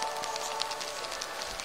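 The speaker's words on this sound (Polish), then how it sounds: "leje duży deszcz, leje duży deszcz" Heavy rain pours steadily outdoors, a dense continuous hiss of water falling without pause across the whole stretch, fairly loud and even.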